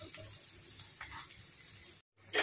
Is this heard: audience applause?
no